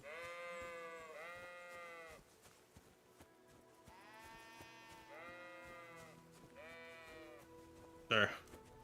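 Sheep bleat in Kingdom Come: Deliverance II, a series of drawn-out, wavering bleats in close succession, fairly near and clear, ending with a short sharp noise.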